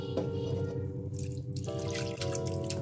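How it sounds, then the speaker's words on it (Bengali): Water sloshes and drips steadily as vinegar-set chhana (cottage cheese curd) is rinsed by hand in a pot of water, a close, continuous wet trickling with no talk. "ছানাটা ধুয়ে নেব।"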